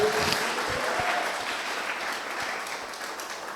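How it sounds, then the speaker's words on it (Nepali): A church congregation applauds together in a full, steady wash of clapping that starts strong and slowly tapers off over several seconds, with no talk above it. "उहाँको लागि ताली बजाइदिउँ हामी"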